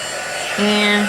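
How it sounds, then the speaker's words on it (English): Heat gun blowing hot air during a craft project, a steady electric whir that steps up to a louder, higher hum partway through, close by. "I'm going to heat up my heat gun here off to the side."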